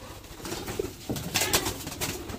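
Jalali pigeons at night, soft low cooing close by with rustling movement and a brief flutter of wings.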